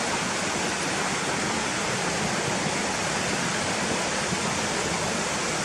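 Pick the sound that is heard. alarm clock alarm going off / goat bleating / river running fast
river running fast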